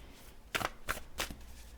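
Oversized tarot cards being shuffled, three quick papery riffles in a row, soft and close in a quiet room.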